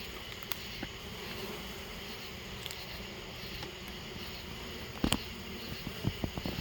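Honey bees buzz in a frenzy during a night honey harvest among many hives, a steady, moderately faint droning hum with a few soft knocks near the end.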